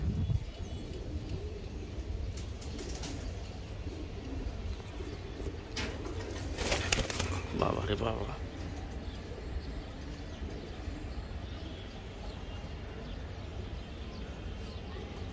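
Iranian pigeons coo softly nearby, low throaty calls repeating amid a steady background hum, while a man briefly exclaims partway through.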